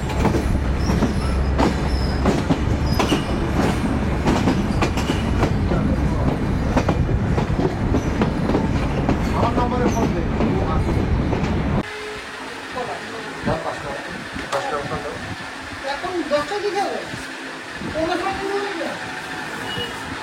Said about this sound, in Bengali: দেখেন সামনে থেকে ট্রেনটা কিন্তু বামের দিকে যাচ্ছে